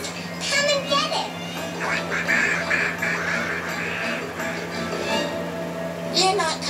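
Cartoon ducks quack at a pond in the animated series Higglytown Heroes, several nasal calls scattered through the scene under a steady music bed and children's voices.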